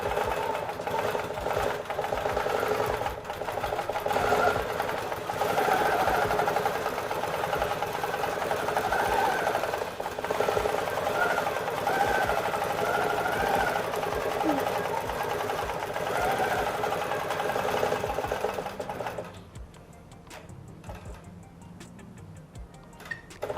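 A sewing machine stitches a quilted book cover with a continuous close whirr and fine rhythmic ticking for most of the stretch, then drops to a quieter lull with light clicks.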